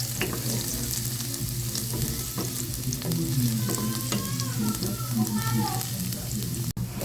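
Garlic fries in hot oil in a pan for a Filipino ginataang kamansi dish, sizzling steadily with crackles and stirring scrapes, heard close up with faint background sounds.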